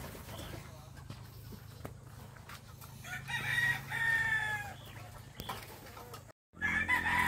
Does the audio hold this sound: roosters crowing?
yes